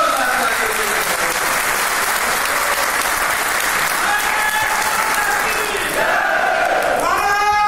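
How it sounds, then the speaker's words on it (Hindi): Party workers at an election rally give loud, sustained applause, a thick roar of clapping with shouts and cheers mixed in, lasting throughout with a voice rising near the end. "इनकी जोरदार ताली"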